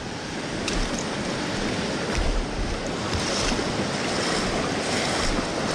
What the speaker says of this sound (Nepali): खोला त कत्रो ठुलो भलाइरहेको रहेछ।